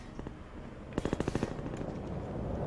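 A rapid burst of automatic gunfire in Half-Life 2 rattles out about six quick shots against a constant background rumble, with a few faint pops before and after.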